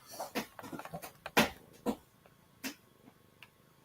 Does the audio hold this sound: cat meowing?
yes